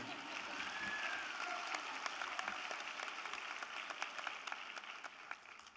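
Audience applause at a university graduation ceremony in Swansea, steady dense clapping filling the hall throughout, moderately loud and even with no break.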